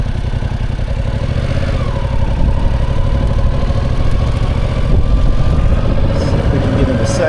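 A Yamaha MT-07 motorcycle engine runs steadily and close at low revs as the clutch is released, giving a continuous rumbling drone with faint mechanical clatter.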